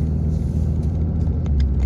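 Highway traffic around Dallas, Texas, a loud continuous low road rumble with passing vehicle swells heard from inside a transport truck, no voices.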